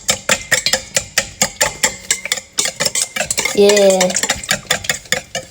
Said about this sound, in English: now we give this a little stir